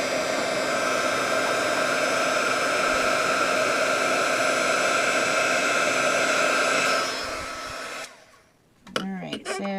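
Wagner heat tool blowing hot air for embossing on paper, a steady loud hissing roar for about eight seconds before switching off, followed by a brief faint rustle.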